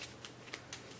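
Playing cards are shuffled in a quiet room in short riffling bursts, about four quick crisp flutters spaced evenly over a second, soft and close with no voices.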